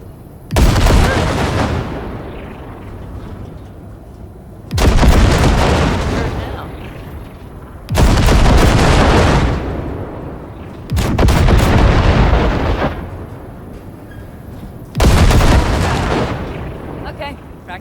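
Five heavy cannon blasts from a Basilisk in Cyberpunk 2077, fired at wrecks at steady intervals of about three seconds, each a loud, close boom with a long rumbling decay.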